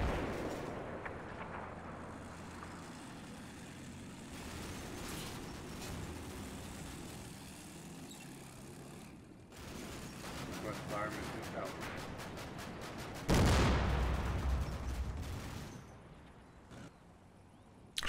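120mm mortar anti-personnel rounds exploding in the strategy game Combat Mission Black Sea, distant rumbling blasts and crackling bursts, with a sharper louder impact late on, under intermittent talk.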